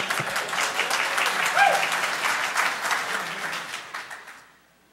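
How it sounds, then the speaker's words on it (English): Audience applause fills a conference hall at a hacking talk on software-defined radio, dense steady clapping from a crowd that fades out near the end. "Applause already."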